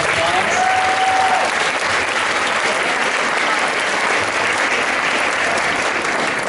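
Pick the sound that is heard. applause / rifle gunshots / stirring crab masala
applause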